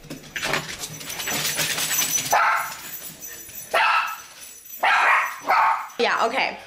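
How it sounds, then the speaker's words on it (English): Several sharp dog barks come in bursts, fairly close, with a person talking over and between them. "oh my gosh, the dogs are barking"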